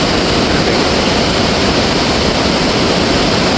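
Rising monsoon floodwater rushing down the Iruvanjippuzha river, a dense, loud, unbroken roar of churning water filling the whole clip.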